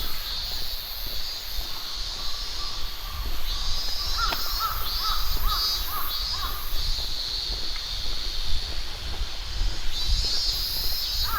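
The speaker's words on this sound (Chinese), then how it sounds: "上面有很多的乌鸦" Crows caw repeatedly in short bursts along an uphill road leading to an old Japanese village, at moderate distance over a steady, bright background hiss.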